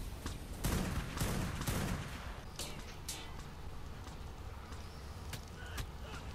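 Gunfire in the survival game Ark during a tribe PvP battle in the Lunar cave on Genesis: a dense opening burst of shots, then scattered sharp sniper cracks over a constant rumbling din.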